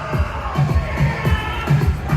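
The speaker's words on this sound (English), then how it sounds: "I can tell where the loud crowd is. They're right over here." A loud crowd cheers at a bikini contest, voices shouting and whooping in repeated bursts close by, a steady roar of excited people.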